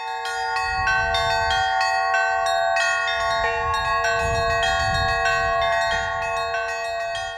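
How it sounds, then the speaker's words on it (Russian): Church bells ring loudly in a rapid, overlapping peal played by a bell ringer, many strikes layered over sustained ringing tones with no voices. "прозвучали колокольные звоны в исполнении московского звонаря Владимира Петровского"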